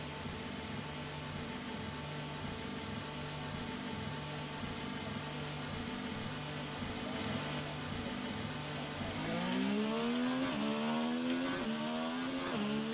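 Race car engine at full throttle in the F1 2019 video game on the short Silverstone layout, a steady buzzing drone that climbs into rising gear-shift sweeps near the end, with no talk over it.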